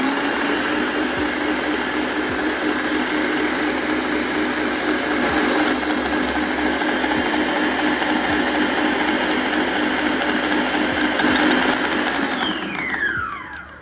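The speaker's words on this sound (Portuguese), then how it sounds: "Nós vamos bater essa mistura por 10 minutos." Electric mixer beating eggs and sugar into a cake batter, a steady loud mechanical whir and rattle that runs unbroken for about twelve seconds before winding down at the end.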